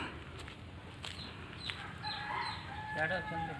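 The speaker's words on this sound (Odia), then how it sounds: "ଏଗୁଡ଼ାକରେ କୁକୁଡ଼ା ସବୁ ବୁଲନ୍ତି।" Aseel parrot-beak breed chickens from Tamil Nadu in a large yard, with a rooster crowing and hens clucking at moderate distance over steady background noise.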